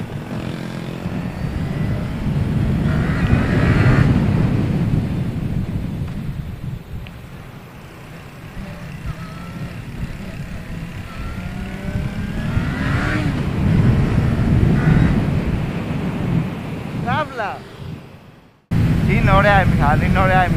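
A Suzuki Bandit S 650 motorcycle being ridden, its engine droning and rising with acceleration under wind noise, with a rider talking over it throughout.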